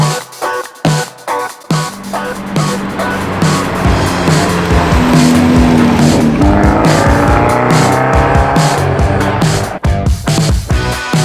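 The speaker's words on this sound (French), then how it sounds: "C'est parti, on va la conduire sur des petites routes ESP off." An Abarth 124 Spider sports car with the roof open, ESP switched off, driven hard on small roads: the engine revs loudly and steadily, with sustained tire squeal through corners and a few brief gear-change dips.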